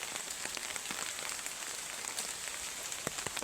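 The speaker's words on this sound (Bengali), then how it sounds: "ভিডিওটা দেখেই নিশ্চয়ই বুঝতে পারছেন যে বৃষ্টি হচ্ছে।" Steady rain falls outdoors during the monsoon, a dense continuous patter of drops on surfaces with scattered sharper drips, fairly close and alone without any talk.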